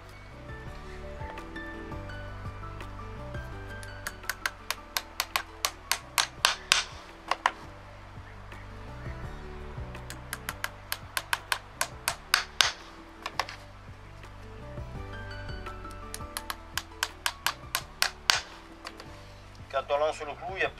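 A farrier drives horseshoe nails into a horse's hoof, a run of sharp metallic hammer taps in quick bursts of several strikes with short pauses between, under ongoing conversation.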